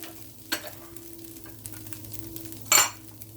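Ground beef browning in a skillet for breakfast hamburger gravy: a steady low sizzle under two short, louder scraping stirs, one early and one near the end, with no talking.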